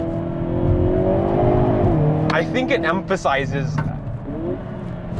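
A Hyundai Kona N accelerates hard with a loud, steady engine drone and rising rev, heard close up from inside while a person talks over it.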